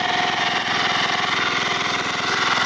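A pressure washer's pump engine runs steadily during slipway cleaning, a loud, even mid-pitched drone with a rapid pulsing throb that holds constant throughout, close by and with no talking.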